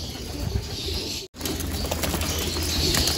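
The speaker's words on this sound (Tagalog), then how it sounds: "papakainin ko na sila mga kalapatid." Hungry young pigeons in a loft just before feeding, giving steady low cooing and bird murmur with some rustling, broken by a brief silent gap partway through.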